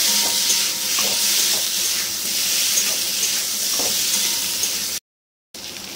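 Taro pieces being fried and stirred with spice paste in a pan, a steady sizzle with soft scraping of the utensil, broken by a brief moment of silence near the end.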